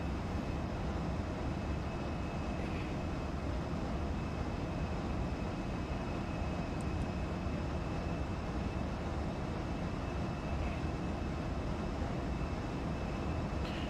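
Simulated Embraer E175 regional jet climbing out after takeoff from Rogue Valley airport in X-Plane 12, a steady broadband engine roar with a faint high whine, unbroken and fairly even throughout.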